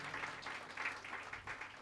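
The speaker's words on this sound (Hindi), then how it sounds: "आइए हम तालियों के साथ उन्हें स्वागत करें." A church congregation claps in welcome, a steady patter of many hands at moderate volume with no voices over it.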